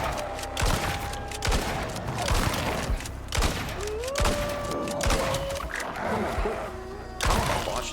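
Repeated gunfire in the survival video game Icarus, with several loud, sharp shots spaced about a second apart over steady game noise and tonal effects, and no voices.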